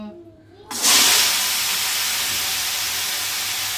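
Tomatoes tipped into a hot pan while making an old-style peanut chutney, setting off a loud, sudden burst of sizzling hiss that holds steady afterward, alone and close.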